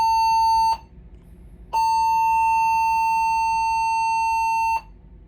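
A cruise ship's drill alarm aboard Royal Caribbean's Jewel of the Seas, a loud steady electronic tone sounding in long blasts separated by a short gap, with no one speaking.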